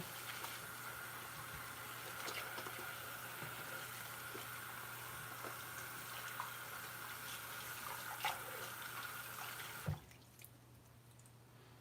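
Water running from a bathroom tap while hands are washed with bar soap, a soft steady low hiss with faint drips and splashes that cuts off near the end, leaving quieter room tone.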